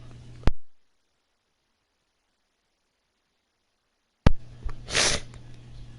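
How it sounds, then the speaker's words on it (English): A single sharp sneeze bursts out near the start, then after a long silence a second burst of sneezing and snorting breath returns close to the microphone. "About to sneeze again, actually."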